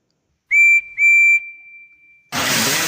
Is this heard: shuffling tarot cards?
no